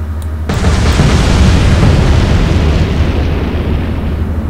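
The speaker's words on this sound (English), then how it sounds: "Four torpedoes hit, no real chance a light cruiser would survive." Torpedoes striking a light cruiser in the naval video game Atlantic Fleet: a sudden loud blast that swells into a long, heavy rumbling roar, slowly fading and holding near the front.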